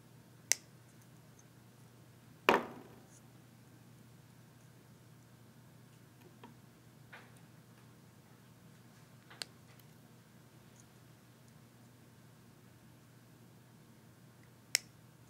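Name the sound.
snipping wire legs of vape coils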